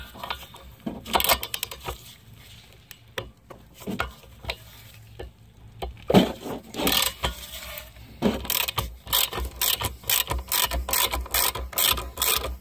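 Ratchet wrench with a 14 mm socket loosening a caliper bracket bolt on a Kia Soul's rear brake, giving bursts of rapid clicking pawl ratcheting with pauses and some clanking of tools, close and fairly loud.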